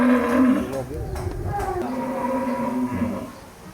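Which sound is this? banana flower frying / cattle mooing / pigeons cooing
cattle mooing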